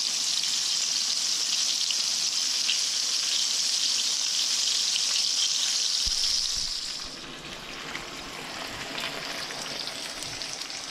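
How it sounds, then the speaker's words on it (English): Thin-cut pork chops frying in a pan of hot oil, a dense steady crackling sizzle that carries on loud and unbroken, then settles slightly quieter partway through, with no talking. "we got our second batch fried pork chops in there"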